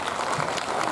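An audience applauds at a school Netaji Jayanthi celebration: a brief burst of dense, steady crowd clapping.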